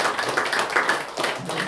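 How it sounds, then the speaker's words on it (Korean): A church congregation clapping during a Sunday worship service, a burst of steady applause close by with brief murmurs underneath. "자, 박수해 주세요."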